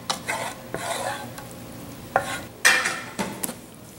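A chili mixture is stirred in a pan, with several distinct scraping and clinking strokes of a utensil against the metal over a faint sizzle, close and spaced unevenly.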